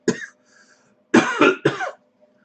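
A short cough, then a quick burst of three harsh coughs close to the mic, with quiet gaps between.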